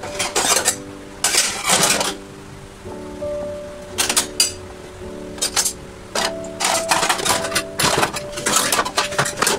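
Freshly washed dishes and metal utensils are put away in a home kitchen, with sharp clinks and clatters coming in irregular bursts and quieter pauses between them.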